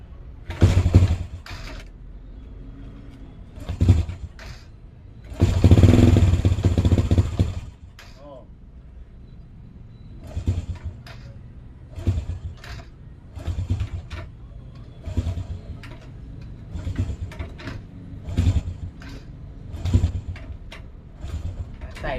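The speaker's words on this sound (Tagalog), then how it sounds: "Ngayon ay susubukan kong pandarin ang ating Honda Dream X's" A Honda Dream motorcycle with a spark plug problem is kick-started repeatedly, giving short sputtering bursts and one brief catch of the engine, loud and close, with a person speaking between attempts.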